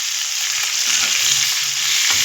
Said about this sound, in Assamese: বিলাহী আঞ্জাত দিয়াৰ কাৰণে এতিয়া হাফকৈ ফ্ৰাই